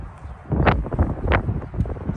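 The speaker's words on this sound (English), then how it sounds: "Sorry about the wind." Wind gusting across the microphone outdoors on a windy day beside a 1996 Ford E-150 Starcraft Star Quest conversion van, a low rumbling buffet that swells in two stronger gusts and stays loud throughout.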